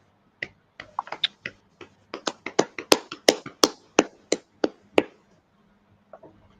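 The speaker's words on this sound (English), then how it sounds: "Clap it up." Sharp, close hand claps ring out at the start of a talk show, about fifteen crisp strikes in a loose, quickening rhythm that trails off into a couple of faint final claps, with no voices over them.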